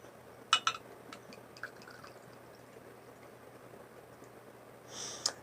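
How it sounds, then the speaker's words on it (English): A few soft glugs of Tullamore Dew Irish whiskey bubbling from the bottle as the first shot pours, quiet and intermittent against a still background. "the sound of the bubbling as you pour the first shot out of a bottle"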